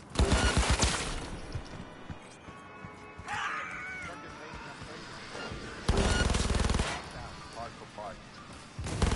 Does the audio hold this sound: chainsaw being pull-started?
no